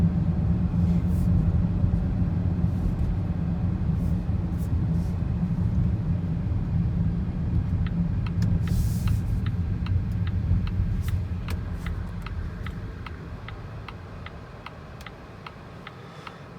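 A 2020 Volvo XC90 T8 R-Design plug-in hybrid cruising at speed: a steady, loud low rumble of road and tire noise that eases later, with a regular ticking, likely a turn signal, clicking through the second half.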